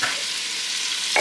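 Pork bites fry in a pan with a steady, close sizzle throughout, and a brief stirring scrape comes near the end.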